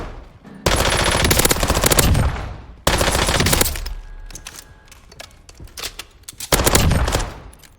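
A submachine gun in Call of Duty Warzone fires in long sustained bursts: loud, rapid cracking volleys in three separate strings with short gaps between them, close and alone.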